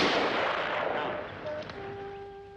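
A firing squad lets off a rifle volley in a 1950s police drama, opening with a loud, sharp blast that rolls away in a long reverberant decay, while sustained musical tones rise beneath it.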